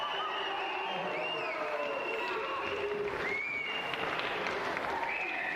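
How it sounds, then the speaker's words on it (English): Studio audience applauding on the Gamesmaster video game TV show, a steady dense wash of clapping and some cheering with continuous background music tones running through it. "And a round of applause again for Tony Rose!"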